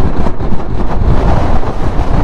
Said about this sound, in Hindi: कितना तेज हवा आ रहा है